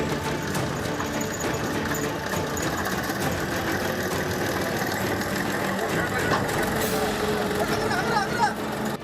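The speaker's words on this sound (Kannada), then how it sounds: "ಹೀಗೆ ಜೀವ ಭಯದಲ್ಲೇ ಟ್ರ್ಯಾಕ್ಟರ್ ಓಡಿಸ್ತಾ ಇರೋ ರೈತರು" A farm tractor engine runs steadily on a damaged road over a broken bridge, a continuous mid-pitched idling rumble with a loose knocking texture, fairly close and constant throughout, with voices talking over it.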